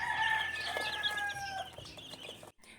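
Newly hatched chicks in a plastic-covered enclosure give faint, high peeps and soft cheeps in a short, quiet burst.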